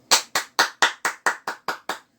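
Nine sharp, evenly spaced hand claps ring out one after another, loud and close, then stop, with no voices over them.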